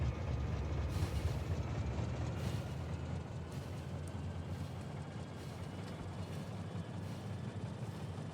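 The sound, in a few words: train running in the video game Factorio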